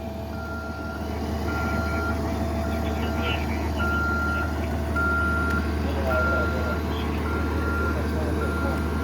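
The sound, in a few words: bus reversing with reversing beeps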